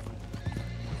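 A horse in the Red Dead Redemption 2 video game, hooves clip-clopping in a quick uneven rhythm close by, with a whinny mixed in over a low steady hum.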